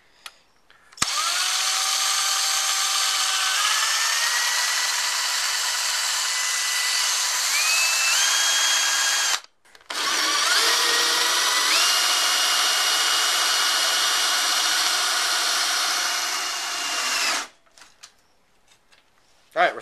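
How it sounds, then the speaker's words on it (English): A power drill boring a hole in a model airplane firewall whines steadily at high speed with rising pitch, pauses briefly, then runs again for several seconds before stopping; close and loud. "We're drilling the center hole in the firewall,"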